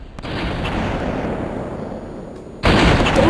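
Rapid gunfire and booming blasts from an Xbox Live shooter game during sniping, loud and continuous with a sharper burst near the end, with no talk over it.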